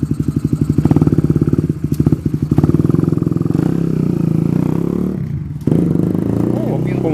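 A rebuilt Honda Dream 150 motorcycle engine with a swapped frame runs loud and close, its rapid putter stepping up and down in pitch as it revs, with a short gap near the end before it picks up again.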